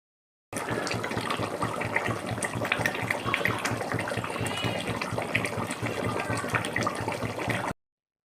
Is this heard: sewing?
no